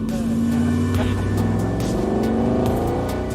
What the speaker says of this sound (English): This is a big Cosworth-tuned V8, so it's a great sound.